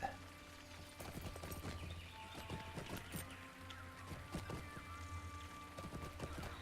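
Horse hooves clip-clop steadily while riding in Lord of the Rings Online, a repeated rhythmic clatter with occasional whinny-like calls over a constant game ambience, no talk.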